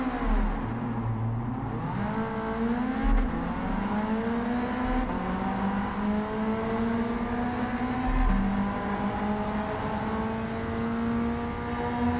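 A Ford Sierra RS Cosworth in the racing game Gran Turismo 7 accelerates hard through several gears, its engine note climbing steadily with brief dips at each shift, loud and alone without voices.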